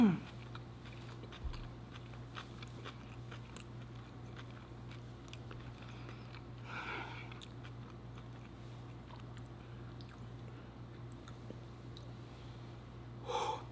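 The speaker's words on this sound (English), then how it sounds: "Let's take a bite of this." Close, fairly quiet bites and soft chewing on a cochinita pibil taco in a fresh tortilla with habanero, with a few crisp bursts of biting among low mouth noises.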